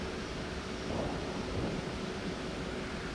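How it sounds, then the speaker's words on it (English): Deep, steady rumble of thunder in a Toliss A320 flight simulator during stormy weather, with broadband rain-like hiss throughout and a slight swell near the middle, no voices. "Oh, I like the sound of the thunder there"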